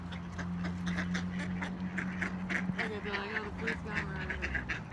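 Hungry ducks quack over and over while they are fed outdoors near thick mud, a busy chorus of repeated calls with people talking under it.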